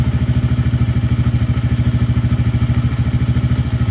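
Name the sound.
motorcycle engine running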